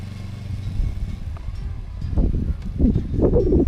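A motorcycle riding in second gear, a low engine rumble that grows louder and rougher toward the end, heard close with some wind buffeting.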